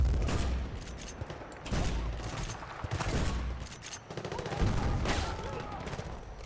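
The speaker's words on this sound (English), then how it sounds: "Something is certainly shooting us." Gunfire from Battlefield Bad Company 2 rattles at the player in repeated loud, dense bursts with booming low-end hits, continuing steadily throughout.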